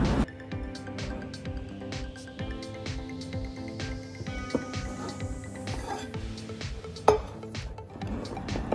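Walnut shells stirred with olive oil in a glass jar make repeated light clinks and rattles against the glass, a steady rhythmic tapping with a sharper knock near the end.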